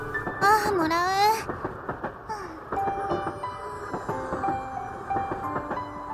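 Rumble and clatter of a train ride in a visual novel video game, running steadily under a voice and music throughout.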